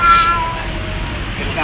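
A cat meows over a noisy background near an LRT line, a short high cry near the start with steady rumble throughout.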